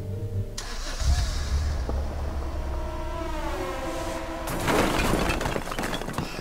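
A car driven through a wall in the video game Dracula's Legacy: a steady engine drone with a crash-like burst near the start and a noisier, clattering surge later, moderately loud without speech.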